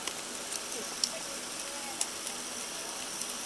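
Sun-dried beef cooking over heat at a riverside campsite, a soft continuous sizzle with a few sharp pops, fairly faint and steady throughout.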